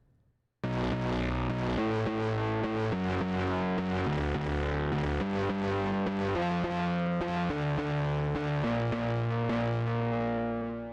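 Modular synth bass voice with its control voltage pushed higher, a thick, distorted, chorused line of sustained notes shifting pitch in steady steps, loud and continuous with no voices.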